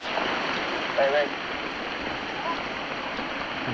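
A mountain waterfall on a hiking trail rushes in a steady, dense wash of water noise that fills the whole scene, with a brief spoken word near the start.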